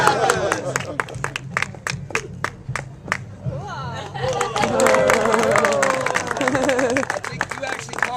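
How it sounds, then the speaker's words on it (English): Audience at a magic performance claps after a double overhand knot trick, starting with sparse distinct claps that swell into fuller applause with crowd murmur and voices mixed in. "Give him a round of applause."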